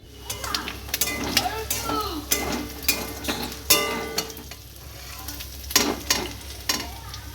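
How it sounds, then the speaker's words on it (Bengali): Prawn heads fry in hot oil, giving a close crackling sizzle punctuated by repeated clatters and scrapes of a utensil against the pan. "মাথাগুলো ভেজে নেব চিংড়ি মাছের"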